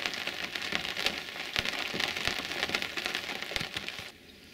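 Morning rain falls steadily at a cove on the British Columbia coast with no wind, a dense crackling patter of drops on surfaces that thins out abruptly near the end.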